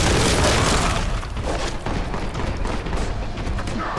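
Dense, continuous barrage of booming blasts and heavy thuds from a shotgun in the Warhammer 40K Boltgun video game, loud and close with no pauses between the impacts.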